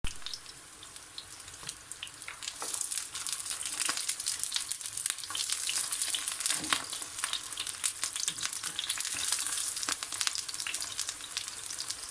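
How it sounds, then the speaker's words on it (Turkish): Steady, crackling sizzle of long, thin eggplant slices frying in hot oil, close up and continuous, with occasional louder pops and no voices. "Kızgın yağın içerisine ince uzun dilimlediğimiz patlıcanları güzelce yerleştiriyoruz ve kızartıyoruz."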